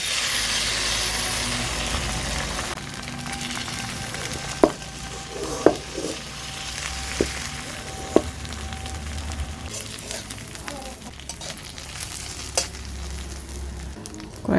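Beaten egg omelette with chopped chilli and salt frying in white oil in a kadai, a steady soft sizzle running throughout with a few sharp clicks and scrapes of a spatula against the pan, no voices.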